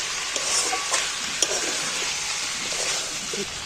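Food sizzling steadily in a hot pan after a sprinkle of garam masala powder, part of an egg dish, with a continuous bright crackle and occasional small pops close by and no talking.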